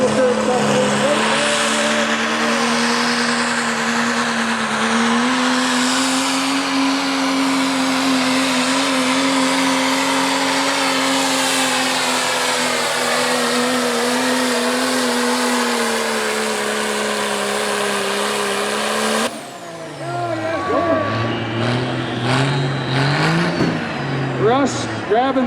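A diesel pulling truck at an agricultural fair truck pull holds a loud, sustained high-revving roar with its turbo spooling up for about nineteen seconds, then the engine note drops sharply and fluctuates as revs fall and rise again.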